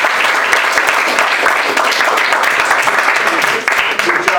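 Audience at a startup weekend event applauding a presenting team: dense, loud, continuous clapping from a crowd indoors, sustained across the whole span with a brief dip near the end.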